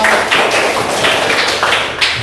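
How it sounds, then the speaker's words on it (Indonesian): A class applauds itself at the end of a lesson, with loud, continuous clapping from many hands close by, holding steady for over two seconds. "Jadi untuk hari ini tepuk tangan untuk kita semua"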